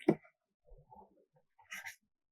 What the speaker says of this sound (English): I will write the sentence.